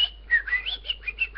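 A man whistles through two fingers, producing bright, piercing tones in a short wavering run of about seven rising and falling notes, close and clear against a quiet background.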